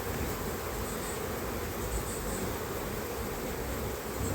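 Honeybees buzzing on brood frames of an opened beehive, a dense, constant close-up drone of many wings with no pauses.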